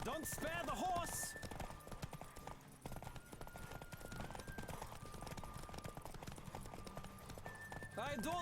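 Horse hooves pounding at a gallop during a race in the Witcher 3 video game, a fast steady clip-clop rhythm running throughout, with a whinny near the start and a shouted voice over the hoofbeats.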